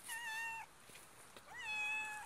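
A cat in a garden melon patch gives two clear, drawn-out meows separated by a short pause, quiet and close by.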